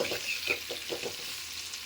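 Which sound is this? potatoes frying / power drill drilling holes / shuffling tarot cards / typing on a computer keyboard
potatoes frying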